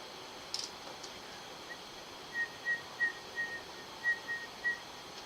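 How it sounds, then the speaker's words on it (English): A person whistles a short tune of about seven soft, sustained notes in a row, faint and alone against a quiet background hiss, with no talking. "Sorry about my whistling."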